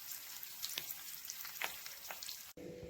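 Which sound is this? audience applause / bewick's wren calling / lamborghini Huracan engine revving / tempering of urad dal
tempering of urad dal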